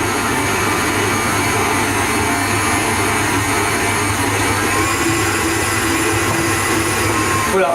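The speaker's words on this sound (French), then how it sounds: "On va les mettre à crémer" Electric mixer creaming butter with sugar for American cookies: a steady, loud whirring drone that holds level throughout with no pauses.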